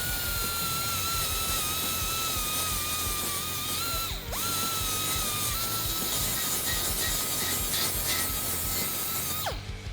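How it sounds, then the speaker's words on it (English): Sanding wheel grinding a burr off the cut end of a pipe: a continuous, close, fairly quiet high whine with rubbing grit, dipping briefly twice as the wheel eases off the metal. "I'm just gonna use a sanding wheel to grind that away."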